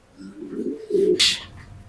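A racing pigeon gives a soft, low cooing call up close, two throaty coos in quick succession with a brief rustle.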